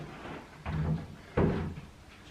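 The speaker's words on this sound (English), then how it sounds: "Maybe I should open the front door." A front door opening indoors in a hot, emptied-out office space, giving two distinct mechanical thuds or clunks about a second apart with no talk over them.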